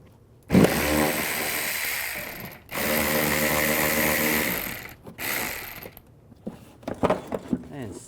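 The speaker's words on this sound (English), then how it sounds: "And take a 7mm socket and take this screw out." Power tool driving a 7mm socket to remove a screw on a 2010-2017 Chevrolet Equinox during rear shock replacement, two loud whirring bursts close by, then lighter clicks and handling noises.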